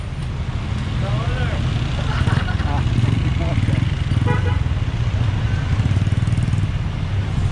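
A Yamaha NMAX scooter passes on a busy street in Mabalacat, Pampanga, its engine hum blending into steady traffic noise and a brief horn toot while people talk nearby.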